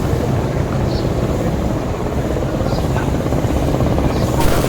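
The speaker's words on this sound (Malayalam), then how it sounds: "ഒരു ഹെലികോപ്റ്റർ പോകുന്ന ഒരു ഒച്ച കേട്ടില്ലേ, അതെന്താ സംഭവം എന്ന് വെച്ച് കഴിഞ്ഞാൽ ഒരു ബോട്ട് അങ്ങ് വരുന്നുണ്ട്." A boat engine approaches across the water with a steady, loud, helicopter-like droning roar that holds throughout.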